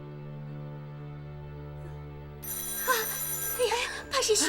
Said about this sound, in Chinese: 怕是徐先生的，六妹，你快接啊！